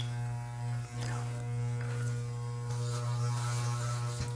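Electric hair clippers fitted with a number 12 guard, a strong steady mains-pitched buzz that stays loud throughout, with brief dips where the motor is switched off and back on.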